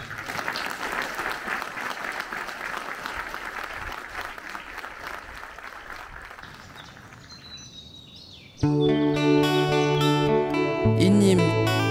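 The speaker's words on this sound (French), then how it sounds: "Je vous demande une minute d'applaudissement de sa mémoire," A crowd gives a minute of applause in tribute at a memorial, with steady clapping for about eight seconds that gradually thins, followed by music starting.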